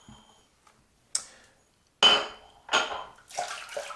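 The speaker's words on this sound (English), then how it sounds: "I'm going to scoop out some of the remaining lather in the bowl." Close, wet scraping of a shaving brush scooping leftover lather from a bowl, in four short separate strokes with quiet gaps between them.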